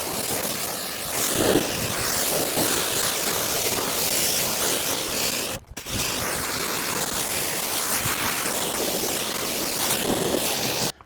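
Deionized water sprays from a hose across a ceramic-coated car in a steady, loud hiss of rinse water, with one brief break partway through.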